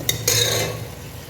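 Boiled potato and mutton being stirred with masala in a pan, two quick scraping strokes followed by a short sizzling rustle, close and brief.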